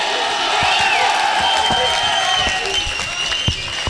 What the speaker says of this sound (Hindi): मेरे प्यारे दोस्त जनाब तहजीब हाफिज साहब, आपकी भरपूर तालियों में।